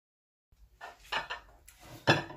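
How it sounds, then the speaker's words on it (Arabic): A spoon stirs pasta and Bolognese sauce in a cooking pot, giving a few close, soft scraping and clinking knocks in quick succession after a moment of silence. "نخلط المقارونة، ندخل هكا الصوص بالكدا"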